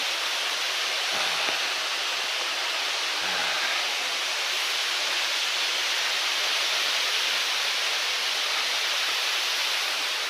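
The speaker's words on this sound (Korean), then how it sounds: "아, 물소리 들리시나요?" Steady rushing water flows through a rainy mountain forest on a hiking trail, a dense continuous wash of stream or cascade noise that stays even and close throughout, with no voices.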